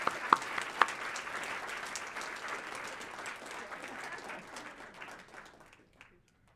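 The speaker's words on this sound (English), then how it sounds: "Can we get another round of applause for these wonderful leaders?" An audience applauds leaders at a finals event, a few sharp nearby claps at the start, then a continuous soft wash of crowd clapping that thins and fades away near the end.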